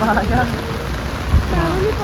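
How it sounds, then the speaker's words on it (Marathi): Steady rain patters in the background while a person speaks over it. "बघा गाईस नाही पाऊस आहे"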